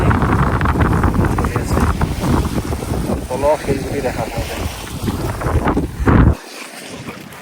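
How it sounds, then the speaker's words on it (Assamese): Wind blowing at Pangong Lake in Ladakh at sunset, a strong steady rumble buffeting the microphone, close and loud, under someone speaking, cutting off abruptly near the end. "আৰু বতাহ মাৰি আছে"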